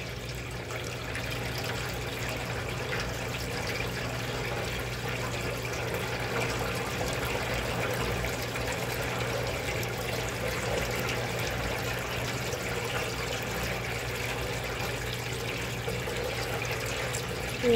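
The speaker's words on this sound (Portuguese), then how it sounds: "ela também vai começar a drenar" A washing machine draining water, producing a steady rushing, trickling flow with a low mechanical hum underneath, constant and fairly loud throughout, with no talk.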